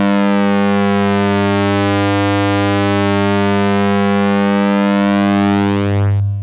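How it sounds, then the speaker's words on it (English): An ADE-10 Reactive Shaper Eurorack module's wave folding stage shaping a synth waveform: a loud, sustained, harmonically rich buzzing tone whose overtones sweep and shift as the folding changes, with a brief change at the end. "The second stage is based on a wave folding circuit and essentially folds the input waveform in on itself."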